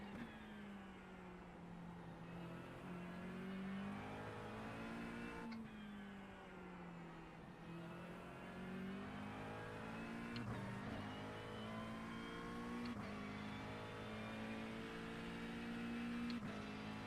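A racing video game car engine drones steadily with pitch rising and falling through gear changes as it pulls out of the pits, loud and continuous with no talk over it.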